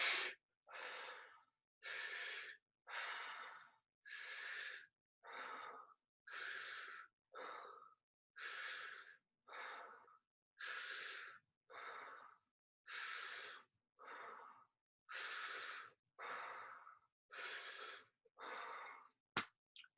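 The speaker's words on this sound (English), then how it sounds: "So that's the breath that you're going to do." Slow, steady yoga breathing with about sixteen even inhales and exhales alternating in a regular rhythm, each breath a soft airy rush, close to the microphone and quiet, with no talking.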